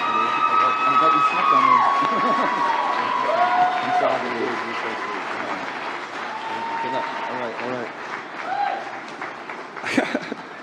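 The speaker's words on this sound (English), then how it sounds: "Please join me in a round of applause." Audience applause and cheering at the Trevor Project gala honoring a recipient of the Trevor Hero Award, a loud sustained ovation with whoops and tonal music running beneath it.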